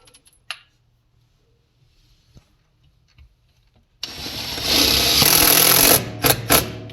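A power driver runs screws while a Frizzlife MK99 undersink water filter is mounted, with a close, loud buzzing whir that starts suddenly after quiet handling noises and a click, then stutters in short bursts at the end.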